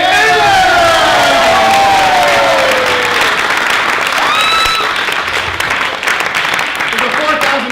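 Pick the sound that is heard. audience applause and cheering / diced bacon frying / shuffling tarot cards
audience applause and cheering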